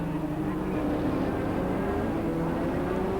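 Turbocharged Formula One car engines at the 1984 San Marino Grand Prix, a loud, steady, continuous droning roar with a slowly rising pitch throughout.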